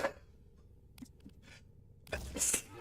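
A single sudden sneeze bursts out near the end, loud and close, after a stretch of quiet with a few faint breathy sounds.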